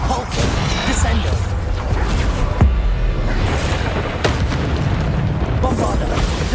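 Spell blasts from the Bombarda explosion charm in Hogwarts Legacy boom repeatedly over a dense, busy battle din, with several sharp bursts and whooshes standing out against constant loud background action.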